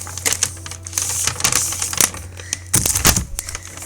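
Crinkly plastic rustling and crackling up close, with sharp snaps and tearing bursts as a package is pulled open.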